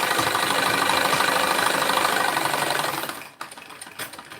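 Sewing machine stitching a pleated suit, a steady fast mechanical whir running continuously for about three seconds before stopping abruptly, followed by faint handling noises.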